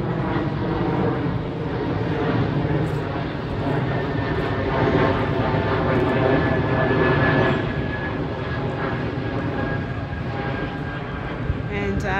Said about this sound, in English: It's a flight path, guys. So as you can see, there's an airplane there,